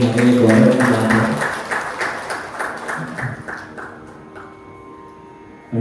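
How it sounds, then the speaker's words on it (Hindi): Audience applause at a classical Indian music festival, a dense burst of many hands clapping that starts loud and tapers off over several seconds, with some sustained musical tones lingering underneath. "एक बजोरदार तालियां उनके लिए"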